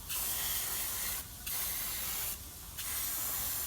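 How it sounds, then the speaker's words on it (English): Degreaser is sprayed from an aerosol can onto the oil filter housing of a Suzuki Swift during an oil change, three close, loud hissing bursts separated by short pauses, with no talking. "just clean that up with some degreaser"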